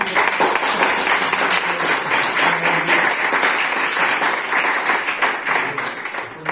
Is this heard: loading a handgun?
no